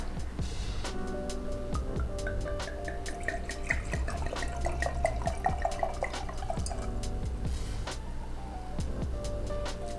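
Sauvignon Blanc glugs and splashes steadily into glasses, with a rising pitch as each glass fills and a few clinks of bottle against glass, close up.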